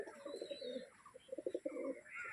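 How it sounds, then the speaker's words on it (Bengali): A pigeon cooing in soft, rounded repeated notes, quiet and fairly close, with no talking. "এই একটা পায়রা দেখুন"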